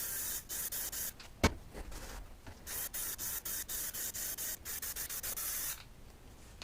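A spray can applies a Plasti Dip coat to a helmet in close, loud hissing bursts, each lasting a fraction of a second, repeated in a quick steady rhythm with one sharp knock partway through.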